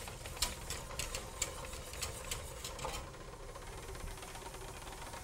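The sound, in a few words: mixer kneading dough on speed 1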